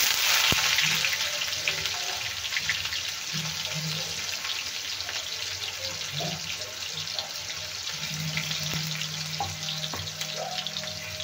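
Cumin and mustard seeds sizzle in hot oil with onion for a mixed vegetable curry, a steady frying hiss with small pops and crackles throughout.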